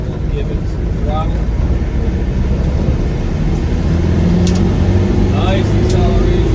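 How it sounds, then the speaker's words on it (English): A 1996 Land Rover Defender 90 with the 300Tdi diesel accelerating in third gear on the road, a steady loud engine drone rising in pitch alongside road rumble, with someone talking over it. "Let's downshift into third gear. And we'll give it some throttle."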